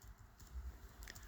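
Computer keyboard typing into an AI chat prompt, a quiet patter of soft keystrokes in uneven bursts, close and faint, with no talking.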